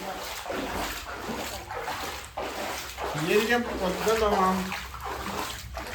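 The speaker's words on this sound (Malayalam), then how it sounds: "പെരയ്ക്കകത്തേക്ക് മഴ പെയ്ത് വെള്ളം അരച്ചു കയറുന്നത് കേട്ടോ" Rainwater rushing and splashing into a house during a sudden flood in a continuous surge, with a person talking loudly over it throughout.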